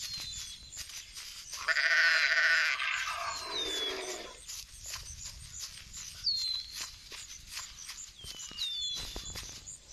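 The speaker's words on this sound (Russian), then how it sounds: "Где эти овцы? Где овцы? Я ж их слышу" Sheep bleating in the video game The Wolf, a couple of faint wavering bleats amid light background ambience and scattered bird-like chirps.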